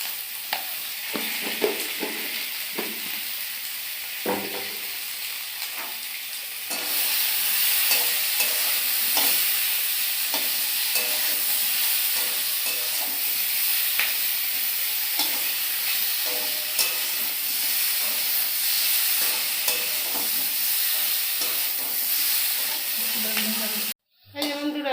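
Potatoes with green chilli and cumin powder sizzle and fry in a pan while being stirred, a steady close hiss that grows louder partway through, with scraping stirs and a voice talking at times.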